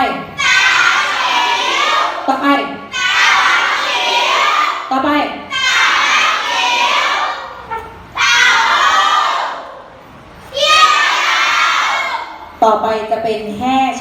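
A group of children in a Chinese language class shouts loudly in unison, several repeated chanted bursts separated by short pauses, with a teacher's voice briefly between them.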